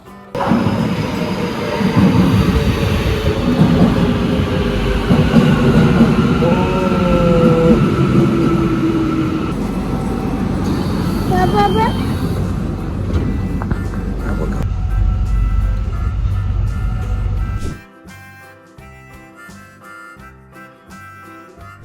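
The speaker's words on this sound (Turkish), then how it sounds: "Baba bu tren gidiyor." A train rumbles past close by for a long stretch, with rattling wheels, squealing rails and brief Turkish speech over it, before the noise drops away abruptly.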